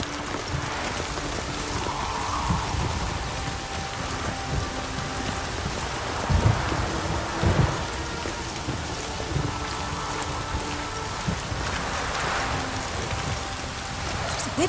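Steady rain falls on a city's streets in The Witcher 3, a constant hiss of drops on surfaces with a few louder spatters and faint distant rumbles, no talking.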